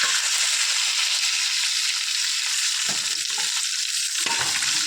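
Steady, loud frying sizzle in a pan, with scattered stirring scrapes and clicks throughout, for a roast with curry leaves and grated coconut.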